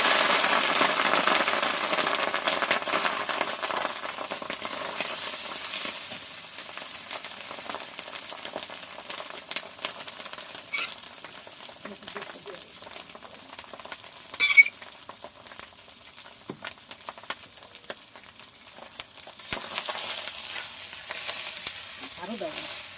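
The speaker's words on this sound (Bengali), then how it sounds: "এই ভাতটা ফ্রাইড রাইসটি তেলের মধ্যে দেবো" Cooked rice frying in hot oil for fried rice, a steady close sizzle throughout with occasional scrapes and clinks of stirring.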